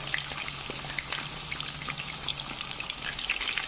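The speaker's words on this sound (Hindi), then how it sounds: "मैं इसको हाफ फ्राई करके निकालूंगा, थोड़े से वक्फे के बाद फिर इसको फ्राई करूँगा।" Chicken leg tikka frying in oil gives a steady, close bubbling sizzle with fine crackling pops throughout, loud and continuous with no talk.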